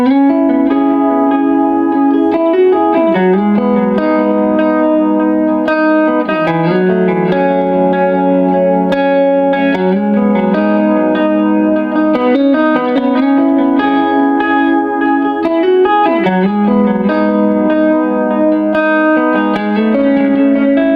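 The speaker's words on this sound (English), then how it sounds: "throw some tape delay in there from the timeline this time" An electric guitar through a tape delay from a GigRig G2 pedalboard plays a flowing melodic line with trailing echoes and warm delay repeats, loud and continuous, with no voices.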